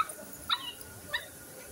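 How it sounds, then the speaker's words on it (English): A small dog at an outdoor festival pavilion gives two faint, short whimpering yelps about half a second apart against quiet background noise. "little dog."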